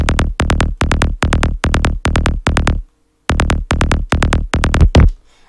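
Dry psy bass kick with the effects switched off, loud repeated thumping hits grouped in quick doubles and triples, one short pause partway through, then a final heavier hit that smears out before silence.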